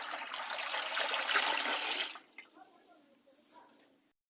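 Water poured and splashing in a shower area as it is mixed with a plant extract from an Ayahuma tree for a bath, a loud rushing pour for two seconds, then fading to faint drips and trickles.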